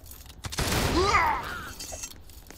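A video game firefight erupts in a single loud burst of gunfire, a rolling, dense blast that swells and fades over about a second, with a brief voice mixed in.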